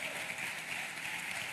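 Steady, distant applause from an audience at a church conference, a continuous wash of clapping without distinct individual claps.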